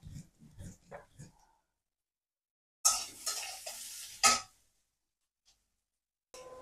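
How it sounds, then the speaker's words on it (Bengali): Sponge gourd frying with onion, turmeric, chili and salt in a pan, heard as bursts of stirring and sizzling after a stretch of talk, with a brief scrape near the end. "ধুন্দুল আর পেঁয়াজ, হলুদ, মরিচ, লবণ এই সমস্ত দিয়ে একটু কষাইতাছি"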